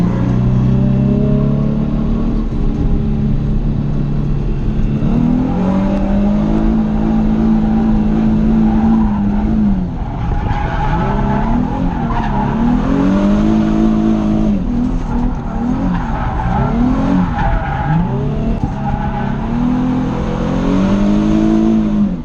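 A Nissan drifts at Irwindale Speedway during Nissfest, its engine revving and wailing loudly in repeated rising and falling surges as the tires squeal, all close and continuous with no speech.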